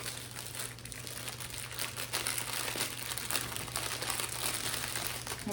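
Wrapping paper crinkles and rustles continuously up close, a steady crackling texture with a faint low hum underneath and no speech.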